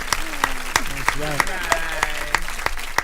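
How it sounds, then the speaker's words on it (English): An audience gives sparse, rhythmic clapping at an evenly spaced steady beat, heard under a voice that talks throughout. "round of applause"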